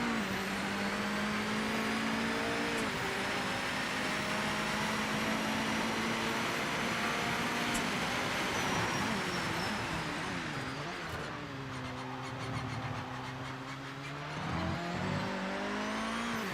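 A McLaren GT3 race car engine drones loudly in Project Motor Racing, holding a high steady pitch, then dropping and rising through gear changes with a brief tire squeal.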